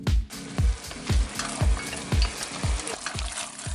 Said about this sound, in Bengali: তো মাংস কষতে থাকো